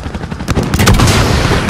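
Aircraft cannon gunfire in the Modern Warfare campaign, a dense, booming roar of rapid rounds that swells and holds loud for under two seconds with no talking.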